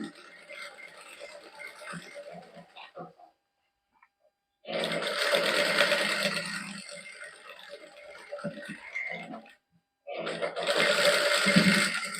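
A sewing machine stitches lace onto fabric in bursts of steady mechanical whirring, with short pauses and one silent gap between runs.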